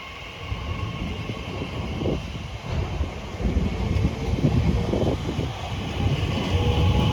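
A Class 345 electric train pulls away from Acton Main Line station, a steady low rumble and rolling rail noise building gradually, heard from the platform at moderate distance with no speech.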